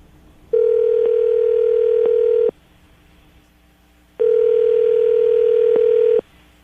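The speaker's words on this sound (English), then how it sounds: "we're going to dial the phone number right now, see if we can get her on the phone" Two long, steady telephone dial tones, each lasting about two seconds with a pause between, loud and clear with no talking over them, heard while a phone number is being called.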